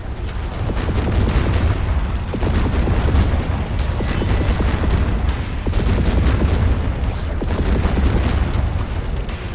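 Naval combat video game with a squad opening fire, heard as a loud, dense barrage of booming gunfire that rolls on continuously without a break.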